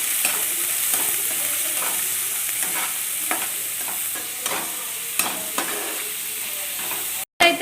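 Onions and green chillies fry in a pan with a steady loud sizzle, broken by occasional clicks and scrapes of stirring, cutting off abruptly near the end.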